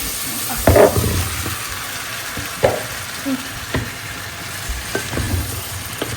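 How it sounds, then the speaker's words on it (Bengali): Spices sautéing in oil for cooking tomatoes, a loud steady sizzle with intermittent scraping knocks of stirring, close up. "টমেটো রান্না করার জন্য মশলা কষায় ফেলছি।"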